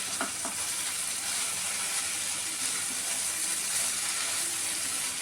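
Kachki fish and onions fry in a pan and are stirred after the lid comes off, a steady close sizzle with a few soft stirring knocks near the start and no voices.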